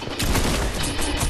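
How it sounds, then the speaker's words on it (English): Shotgun blasts in the video game Fortnite crack out in a loud, rapid burst of overlapping shots, up close and filling the moment with no talk over them. "Use your shotgun."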